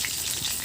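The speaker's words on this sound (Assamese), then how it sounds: "মাছ ফ্ৰাই হৈ গৈছে" Fish pieces fry in hot oil in a kadai over a traditional fire-kitchen hearth, giving a steady, close, dense sizzle and crackle with no talking.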